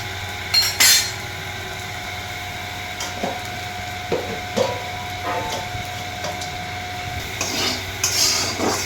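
A spatula stirs soybean and potato pieces frying in a pan, giving intermittent scraping clicks and knocks over a low steady background hum.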